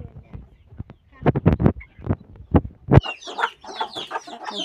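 Two brooding hens sitting on eggs cluck in close, loud bursts of rapid throaty calls, followed by a run of softer, higher clucks.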